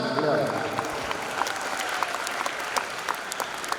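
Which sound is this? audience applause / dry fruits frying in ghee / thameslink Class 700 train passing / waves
audience applause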